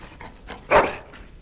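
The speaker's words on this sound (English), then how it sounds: "Bloody dog." A single sharp dog bark rings out mid-clip in Dragon Age: Origins, loud and close, with quieter game ambience and muffled background sound before and after it.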